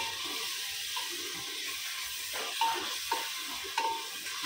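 Tomatoes sizzle and fry in a pan of softened onions while being stirred for a bhaji dish, a steady close hiss with occasional scraping clinks of the spoon.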